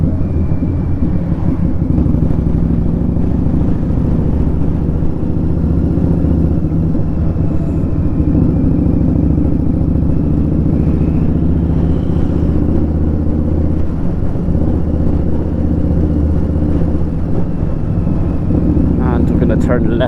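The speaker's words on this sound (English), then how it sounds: "now the bike sounds loud through this bit" An Indian Scout Bobber motorcycle's engine drones loud and steady throughout a road ride, a dense low rumble with constant wind noise and no breaks.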